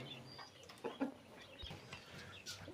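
Quails in a farm enclosure give soft, scattered chirps and clucks, faint and somewhat distant, over quiet background noise.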